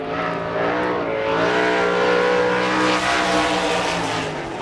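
A sprint car roars around the track on a qualifying lap at an All Star Circuit of Champions Speedweek race near Pittsburgh, its engine droning loudly and steadily with a slight rise and fall in pitch.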